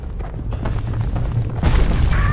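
A scrap musket fires in the Bastion video game, giving a heavy booming blast with a mechanical clatter, followed by a second louder burst and a brief metallic ring.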